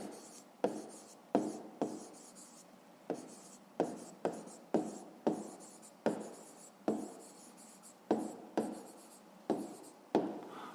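A pen or pencil writes an answer by hand on paper in a quiet room, giving about two dozen short scratchy strokes in irregular bursts, close and soft, with no talk.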